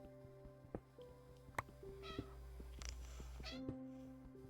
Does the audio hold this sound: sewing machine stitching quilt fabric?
no